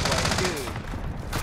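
Gunfire rings out in the video game Call of Duty: Modern Warfare, with sniper shots among rapid, close, repeated cracks that fill the short moment and carry a faint voice underneath.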